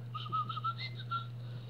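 A person whistles an imitation of a meadowlark's song, a short run of clear, evenly spaced notes followed by a few higher ones, heard close and fairly quiet over a steady low hum.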